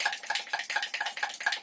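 Homemade cream mixture being stirred in a container, quick repeated scraping and clinking strokes in a steady rhythm, close and fairly quiet, no talking.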